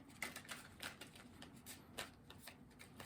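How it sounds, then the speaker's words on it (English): Quick, crisp riffling of a tarot deck being shuffled close by, a few rapid bursts of flicking cards. "Couple more shuffles."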